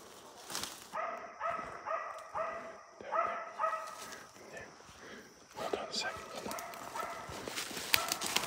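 A dog barks in repeated bursts of several quick barks with pauses between, somewhat distant, over faint footsteps and shuffling.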